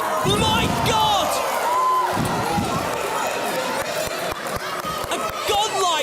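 A wrestling match crowd cheers and shouts loudly throughout, with a commentator talking excitedly over the roar and a few sharp thuds from the ring.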